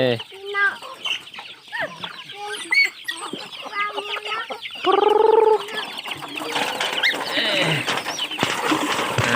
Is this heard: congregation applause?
no